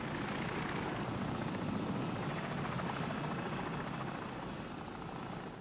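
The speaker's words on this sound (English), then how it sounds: "Enemy helicopter, get down." Enemy helicopter flying overhead in the video game Modern Warfare, a steady, loud rotor roar filling the scene without pause, sustained throughout with no talk.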